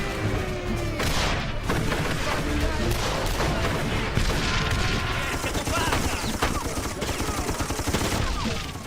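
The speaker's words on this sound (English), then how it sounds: "This game does not skimp on giving you grenades." Video game combat with dense gunfire and booming grenade explosions, loud and continuous throughout, with overlapping bursts and crashes and a voice faintly under the din.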